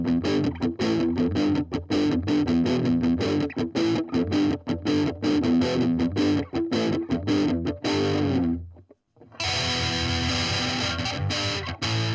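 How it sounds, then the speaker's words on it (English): Distorted electric guitar through an amp's distortion channel with flat EQ, loud and continuous with chugging, choppy palm-muted rhythm, a brief silent gap near the end, then sustained chords resume alone. "Now we're listening to the distortion."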